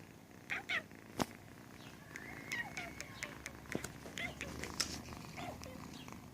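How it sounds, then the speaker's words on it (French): A cat is petted and purrs steadily in a low, close rumble under soft human voices, with a few rustling touches and small clicks. "je caresse le chat en même temps."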